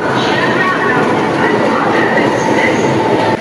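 An express train rumbles loudly and steadily nearby at Sealdah station, with a continuous roar and faint squealing tones and muffled voices in the mix.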